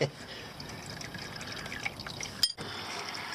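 Engine oil draining from the oil pan of a 2017 Volkswagen Jetta 1.4T, a steady liquid trickle and stream continuing throughout, with a brief clunk near the end.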